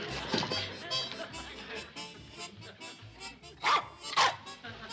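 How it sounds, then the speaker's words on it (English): A dog barks twice in quick, sharp bursts near the end, close by, over busy background commotion and people talking in a comedy sitcom scene. "The stupid dog goes all to pieces in a time of crisis"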